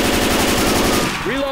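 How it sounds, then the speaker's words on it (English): Automatic gunfire in Left 4 Dead 2, a loud, rapid, continuous burst of shots that cuts off near the end, followed by a brief whistling tone. "Shoot that."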